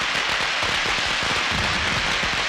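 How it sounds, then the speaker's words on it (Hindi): Firecrackers go off in the middle of a street, a dense stream of sharp crackling pops bursting continuously and loudly throughout, with no talk over them. "फिर भी पटाखे चला रहे हैं, तो भी बीच सड़क पर।"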